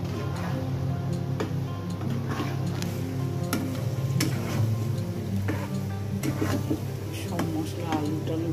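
Chicken kosha cooking in a pan, a steady close sizzle with occasional stirring ticks and scrapes, under ongoing conversation.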